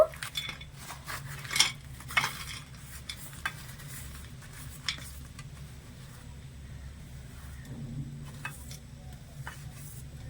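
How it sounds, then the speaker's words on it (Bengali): A spoon stirs grated coconut and melting jaggery in a pan for a sweet filling, with scattered scraping clinks and a faint sizzle over a low steady background hum. "এবারে গুড়টা নেড়ে ছেড়ে গলিয়ে নেব নারকেলটা একটু ভাজা ভাজা করে নেব"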